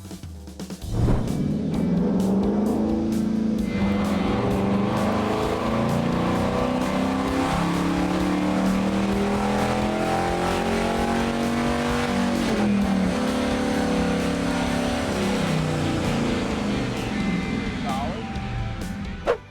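A 2019 Dodge Charger with a Hemi V8 holds a loud, steady roar that climbs and falls in pitch over about twenty seconds, close by and continuous, with a voice talking over it.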